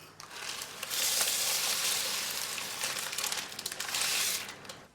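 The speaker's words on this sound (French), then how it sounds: "Marine prépare le riz parfumé." Fragrant rice cooking in a pan gives a steady, close crackling sizzle that swells after the first second and holds with a busy crinkly texture before easing off at the end.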